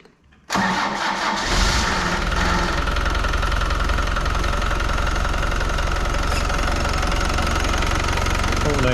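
A turbocharged car engine, with a newly fitted turbo pipe, cranks and fires after a brief silence, then settles into a loud, steady idle with a rough, throbbing rumble.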